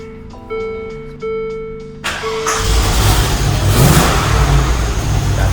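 A 2003 Land Rover Discovery 2, long abandoned, chimes with its ignition warning tones before the engine cranks, catches and revs up, then holds a loud, rough, steady idle close by.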